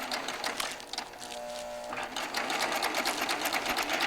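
A Baby Lock Triumph serger runs through fabric, its fast rhythmic stitching chatter starting slowly and then speeding up, close and steady.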